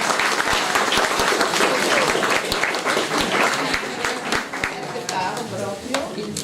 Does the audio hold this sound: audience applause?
yes